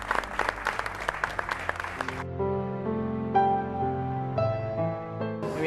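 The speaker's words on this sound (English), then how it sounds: "a round of applause for our winner for the night" A crowd applauds the night's winner at an eviction-show event, dense clapping for about two seconds that cuts off sharply, followed by tonal sounds with a low hum underneath.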